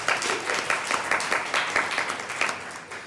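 Short burst of applause at a city council meeting, many hands clapping in a moderate, even patter from a small crowd indoors.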